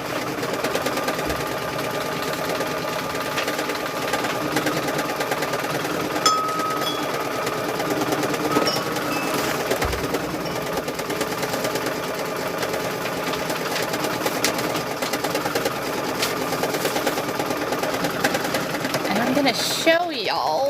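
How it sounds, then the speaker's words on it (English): A sewing machine running steadily while working on a quilt, a continuous close mechanical whir with a fast rhythmic clatter, holding an even level throughout before briefly cutting out near the end. "We're going to turn the sewing machine on."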